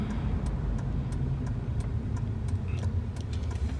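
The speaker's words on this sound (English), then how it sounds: "I am pulling up at the transmission shop now" A Dodge Ram SRT10 pickup with a failing transmission pulls in slowly, its engine a low steady rumble heard from the cab, with a rapid light ticking running throughout.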